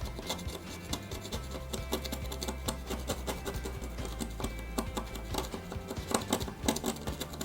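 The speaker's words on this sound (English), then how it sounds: "I'm gonna get a screwdriver and just scrape it off" A screwdriver scrapes dried battery-leak residue inside a remote control, close and quiet, with rapid uneven scratching and small clicks over a low steady hum.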